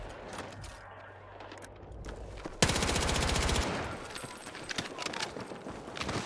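A gun fires in Battlefield 6, a sharp shot followed by a fast, loud burst of automatic fire lasting about a second, then scattered quieter shots and ambient battle noise.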